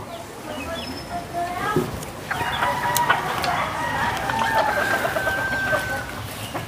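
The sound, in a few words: chickens clucking and rooster crowing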